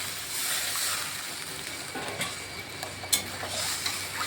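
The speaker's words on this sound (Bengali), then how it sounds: "এখন আমি পরিমাণ মতো জল দিয়ে দিচ্ছি" Water added to spice masala frying in oil gives a steady hiss and sizzle, with a couple of small sharp pops partway through and no voices.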